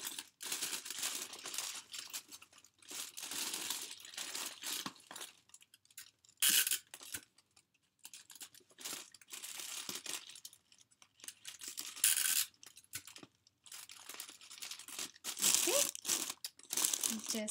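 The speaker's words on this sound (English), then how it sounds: "And then you can just fix the side by adding the clear tape." Clear tape is pulled, torn and pressed onto the side of a homemade Christmas gift box, giving loud, close crinkling, ripping and rustling bursts that come and go in irregular clusters, with a voice talking in places.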